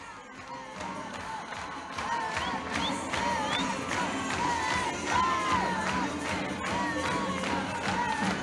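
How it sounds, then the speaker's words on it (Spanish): A crowd at a political event cheers and applauds for the governor, a loud mass of shouting and clapping that swells after the first couple of seconds and stays dense throughout. "El fuerte aplauso para el señor gobernador Leandro Esdero."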